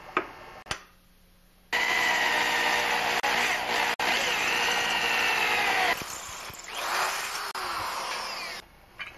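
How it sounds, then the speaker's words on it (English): A drill press boring a 1/4 inch hole into a metal bike frame part runs loud and steady for several seconds, pauses briefly, then continues at a lower level before winding down. "I'm going to drill a 1/4 inch hole in there"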